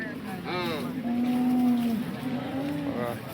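A young bull lows at the Sangola cow market in Maharashtra, one long drawn-out moo that rises and then fades, with voices and market bustle around it.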